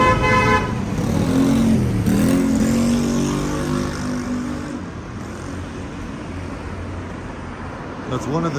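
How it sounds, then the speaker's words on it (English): Car horn honking on a street in Japan, a sustained tonal blare in the first couple of seconds amid loud traffic and engine noise, then fading into steady street ambience. "And people here, they'll honk if you're not going"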